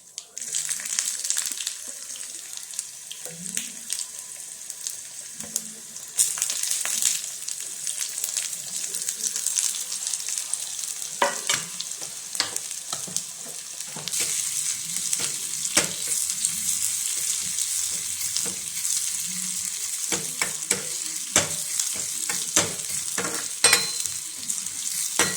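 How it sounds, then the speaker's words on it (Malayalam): Mustard seeds and chopped small onions sizzle in hot oil for a cucumber and jackfruit-seed curry, a steady frying hiss with scattered sharp pops and crackles throughout. "എണ്ണ നന്നായി ചൂടായതിന് ശേഷം നമുക്ക് കടുക് ഇട്ട് കൊടുക്കാം. കടുക് പൊട്ടി വരുന്ന സമയത്തേക്ക് നമുക്ക് അരിഞ്ഞു വെച്ചിരിക്കുന്ന ചെറിയ ഉള്ളിയൊക്കെ ഇട്ട് കൊടുക്കാവേ"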